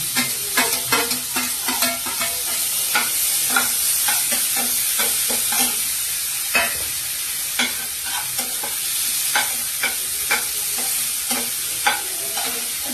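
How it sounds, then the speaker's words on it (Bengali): Pointed gourd filling fries in mustard oil with a loud, constant sizzle, while a spatula scrapes and taps the pan in a fairly steady rhythm of stirring strokes throughout. "ওই তেলটার মধ্যেই দিয়ে দিচ্ছি পটলের দানাগুলো, দিয়ে ভালোভাবে এটা নাড়তে থাকছি"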